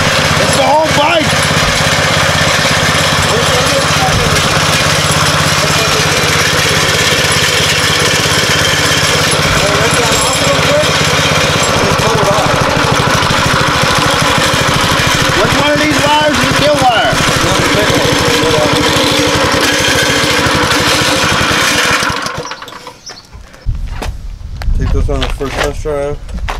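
A homemade mini bike engine runs loud and steady for about twenty-two seconds, rough and buzzing like a small lawn mower motor, then cuts out abruptly into near silence with a brief sputter.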